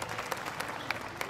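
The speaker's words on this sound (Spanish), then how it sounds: "Pastor, un aplauso para él." Brief, moderate applause from a church or event audience welcoming a pastor, a steady patter of clapping with a few sharper claps standing out.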